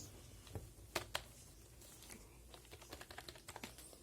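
Quiet, soft typing on a FronTech computer keyboard with soft keys: scattered light key taps, a few louder, then a quicker run of keystrokes near the end.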